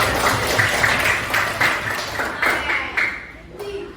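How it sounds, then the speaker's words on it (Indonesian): A classroom of students claps together in a lesson on artificial intelligence, fairly soft and slightly distant, with uneven bursts and a few sharp taps mixed in before the clapping fades. "tepuk tangan buat kita semua"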